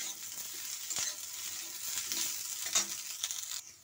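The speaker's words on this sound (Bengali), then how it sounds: "ডাঁটাগুলো দিয়ে একটুখানি ভেজে নেব" Tender pointed gourd shoots and stems frying in a pan, a moderate steady sizzle with occasional stirring scrapes and taps, close and without talk.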